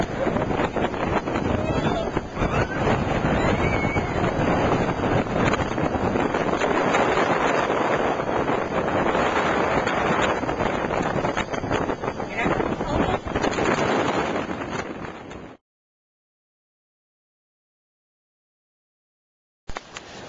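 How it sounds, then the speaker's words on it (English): Loud, constant wind buffeting the microphone in Deam Wilderness, Hoosier National Forest, a roaring rumble that cuts off abruptly into silence before briefly returning at the end. "Kind of windy."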